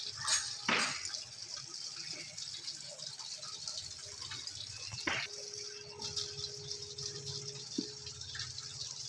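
Water pours steadily from a gomukh spout onto a Shiva lingam at a Narmada riverside shrine, a faint continuous splashing with a couple of sharper knocks and clinks along the way.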